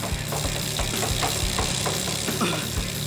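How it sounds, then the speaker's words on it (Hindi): A motorbike engine in the animated show Idaten Jump runs steadily with a low, uneven idle rumble and some rattling, loud and close throughout. "मेरी बाइक की आवाज आ रही है"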